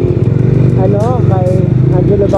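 Kawasaki Versys 650 motorcycle engine running while riding, a loud steady throbbing drone under continuous close talking from the rider.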